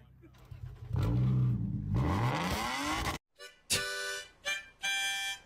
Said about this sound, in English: Someone must hate you to put a bottle in your exhaust.